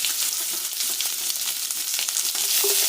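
Onions and curry leaves fry in sesame oil for an eggplant and potato masala curry, a loud, close, continuous sizzle with faint stirring beneath it and no voices.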